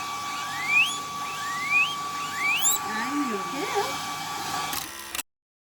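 A hair dryer blow-dries a guinea pig after a bath with a constant loud whirring hum. Rising, whistling squeals from the animal repeat over it before the dryer cuts off abruptly.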